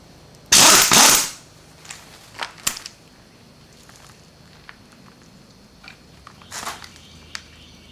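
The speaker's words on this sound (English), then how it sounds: "Don't forget to change the direction of your air gun." A pneumatic air impact gun hammers on the alternator pulley of a 2008 Jeep Compass in one loud, close, rattling burst lasting under a second, followed by quieter clicks and shop handling noises and a brief later burst.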